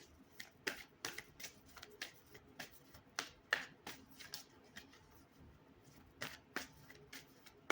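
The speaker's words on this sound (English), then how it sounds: "Let's go into the Moonology Oracle card deck here." A Moonology oracle card deck being shuffled by hand, a quiet, close series of soft riffling flicks and taps in an uneven rhythm, with no talking.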